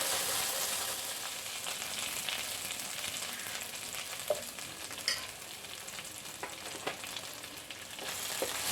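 Cooked chana dal frying in a tablespoon of ghee in a pan on a medium flame, giving a steady close sizzle with scattered scraping clicks of stirring throughout.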